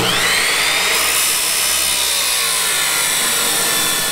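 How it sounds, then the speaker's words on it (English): Steel pipe being cut for a buffalo fence with a power saw, a loud, steady, shrill grinding whine with ringing metallic overtones that continues unbroken throughout. "let's get cutting on this pipe"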